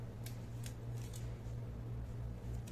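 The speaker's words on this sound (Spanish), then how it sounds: "Vamos a cortar por aquí." Scissors snipping fabric while cutting a shirt collar, several short crisp cuts spaced apart over a steady low hum, close and fairly faint.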